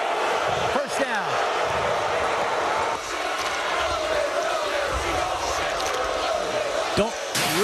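Loud, steady crowd roar fills a high school football stadium after a pass interference flag on a touchdown try, with brief sharper swells and a couple of thuds, and voices murmuring throughout.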